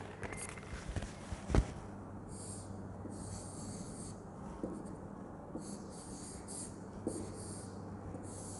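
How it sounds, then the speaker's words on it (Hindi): A pen scratches across a page of paper in a quiet room, soft continuous strokes with brief pauses and one sharper tap partway through, close to the listener and with no voices. "वहाँ पर आपका जो इस पेज पर जो खाली जगह है वहाँ पर हम आंतरिक प्रश्न लिखेंगे"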